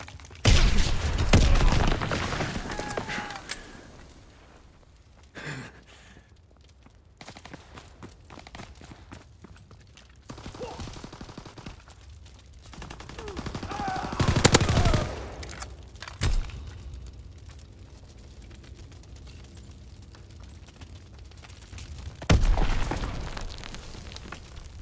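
Video game combat with bursts of gunfire and explosion-like booms, loud near the start, mid-clip and near the end, broken by quieter stretches of shuffling movement.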